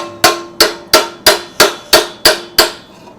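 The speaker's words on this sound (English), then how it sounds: "taking my piece of brass, kind of laying it in there, and then taking a hammer" Seven sharp metallic hammer blows on brass sheet, shaping a car floor pan, evenly spaced and ringing briefly, close and loud with no talking.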